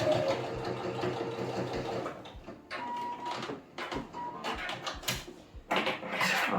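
Domestic sewing machine stitching a seam on a basic V-neck T-shirt, running in steady bursts with brief pauses and restarts, fairly close and alone without talk.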